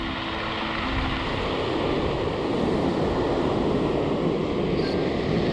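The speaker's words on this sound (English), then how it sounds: "Waves are a lot bigger on this side." Big ocean waves break and wash over a rocky shore at a California surf-fishing beach near Carlsbad, a steady, loud roar of churning surf with wind buffeting the microphone and no talk.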